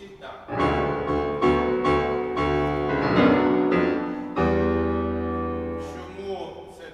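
An orchestral excerpt of Liszt's Mephistopheles theme, dense and forceful with sharp accented attacks and heavy low register, played loudly throughout.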